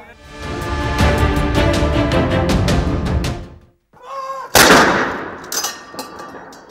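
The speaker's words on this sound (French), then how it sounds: "un coup de canon retentit pour marquer le début des funérailles" Ceremonial cannon shot fired from the Tower of London beside the Thames to mark the start of a funeral, a loud sharp boom with rolling echo following a sustained rumbling passage.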